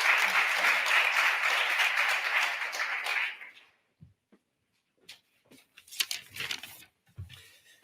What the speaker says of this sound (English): let's please give him a warm round of applause as we bring him to the podium